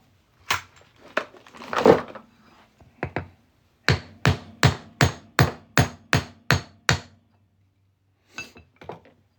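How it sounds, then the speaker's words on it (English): Sharp metallic hammer strikes ring out as a punch is driven through a half-ounce fine silver coin: a few irregular taps first, then a steady run of about eight evenly spaced blows, with two lighter taps after. "I'll hammer the punch on through"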